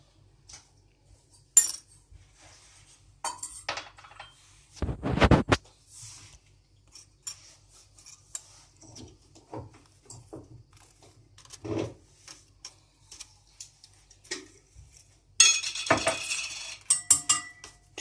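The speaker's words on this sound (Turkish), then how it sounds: "Ben kaşıkla temas ediyorum şu anda." A metal spoon scrapes and taps against a block of salted, hardened ice, giving sparse close scratches and clinks separated by quiet gaps, with a louder scraping burst near the start and another cluster near the end.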